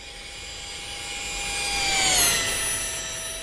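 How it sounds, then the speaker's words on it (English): Twin-motor jet in the RealFlight 9.5 flight simulator game makes a steady whining engine roar with a high electric buzz. It swells to a peak midway, its pitch shifting, then eases off, with no talk. "If you took off the electric buzzing, it would sound pretty much like a real jet."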